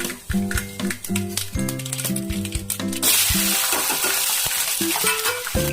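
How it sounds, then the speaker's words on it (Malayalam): Mustard seeds hit hot mustard oil for a giant bitter lemon pickle, bursting into a loud, dense crackling sizzle about halfway through after a stretch of tonal background sound. "ഇനി കടുക് പൊട്ടിക്കാം."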